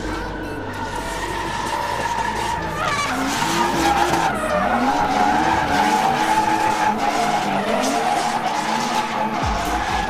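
Drift cars with 3-litre engines skid around a track at a drift championship stage in Madžiūnai, producing a continuous loud tire squeal with wavering whines over a steady engine drone.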